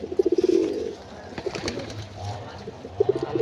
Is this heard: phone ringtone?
no